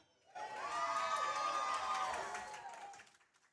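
A wrestling crowd at a CWF Voltage event cheers and shouts loudly for about three seconds, a dense swell of voices that fades out at the end.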